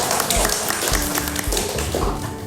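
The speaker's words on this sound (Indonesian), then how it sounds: "kita tepuk tangan dulu" Applause from an audience at an Indonesian talk-show event, a dense wash of clapping with a few louder claps standing out, steady and fairly close for the whole stretch.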